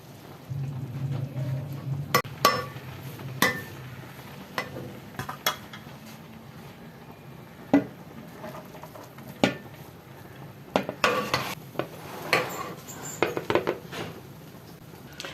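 Chicken mandi rice being served out of a cooking pot after resting on dum. A spoon gives scattered sharp scrapes and clinks against the metal pot over a quiet kitchen background, with no one speaking.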